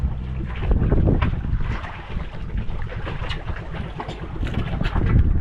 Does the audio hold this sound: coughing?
no